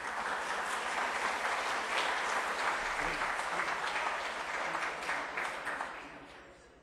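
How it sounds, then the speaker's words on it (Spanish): Dense, sustained applause from a large audience at a university faculty event, steady and full for about six seconds before tapering off toward the end. "Démosle un fuerte aplauso, por favor."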